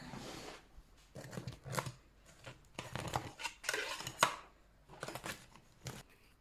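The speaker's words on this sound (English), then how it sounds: "now I'm going to pull them out and let them cool on the rack" Bread loaves pulled from metal baking pans onto a cooling rack, a series of close, faint scraping knocks and rattles of metal, arriving in short clustered bursts with brief gaps between.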